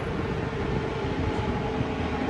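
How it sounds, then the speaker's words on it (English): A helicopter passes over Myrtle Beach, heard as a steady, loud, broadband rotor and engine roar that holds throughout without rising or falling, no talking. "Here comes the helicopter."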